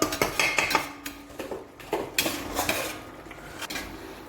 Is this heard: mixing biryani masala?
yes